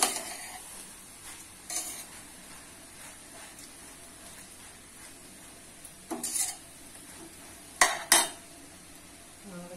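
Rice gets stirred in a Healux cookware pot while making veg pulav, a soft sizzle running underneath as a spoon scrapes and clinks sharply against the metal in a few scattered bursts, with no voices.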